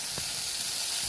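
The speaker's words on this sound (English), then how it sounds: "so just fry like 1 to 2 minutes and flip it and fry other side 1 to 2 minutes as well" Dagwood frying in hot oil, a steady loud sizzle with faint bubbling crackles, alone without talk.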